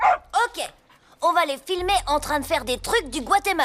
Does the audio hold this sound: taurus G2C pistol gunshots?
no